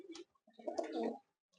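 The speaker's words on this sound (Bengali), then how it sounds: "পায়রা দুটো দেখছেন, মাদিটা স্ট্যান্ডিং দেখুন" Pigeons cooing close by in a loft, a short soft call followed by a longer throaty rolling coo, with no voices.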